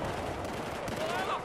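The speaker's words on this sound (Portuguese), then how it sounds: "Tá rolando tiro aqui dentro" Gunfire in the combat video game Battlefield 4, a dense, continuous crackle of shots filling the whole moment with a brief whistling tone near the end.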